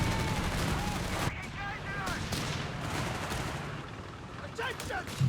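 A rifle volley and scattered battlefield gunfire in the video game Company of Heroes 3, continuous crackling shots with faint distant booms, under a steady layer of game noise and radio chatter.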